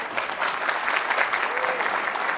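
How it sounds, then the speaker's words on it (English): Warm round of applause from a conference audience, steady dense clapping close and loud from start to finish. "he should be given a very warm round of applause for that"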